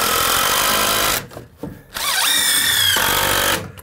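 Power drill driving screws into a wooden block on a DIY shed build, heard in two loud whirring bursts with a short gap of quieter clicks and handling between them.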